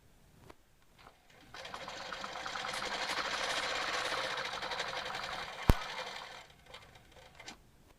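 A quilting machine stitches a clamshell design with a ruler, a steady mechanical hum rising over a few seconds and then fading out, with one sharp click near the end and soft handling noises.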